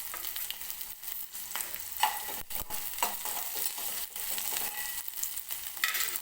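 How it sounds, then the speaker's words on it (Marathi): Onion frying in oil makes a continuous crackling sizzle with bursts of stirring clatter. It sounds close and moderately quiet, with no speech. "हा कांदा जो आहे तो तेलामध्ये व्यवस्थित भाजून घेते"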